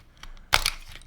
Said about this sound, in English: it was crunching on the packaging.